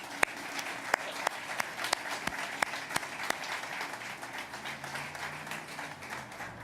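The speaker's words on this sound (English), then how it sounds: "Please join me in giving them a round of applause." An audience applauds at the naming rights announcement for the Grand Rapids riverfront amphitheater. The clapping is steady and continues throughout, with several sharp, distinct nearby claps over a softer crowd wash and a low hum underneath.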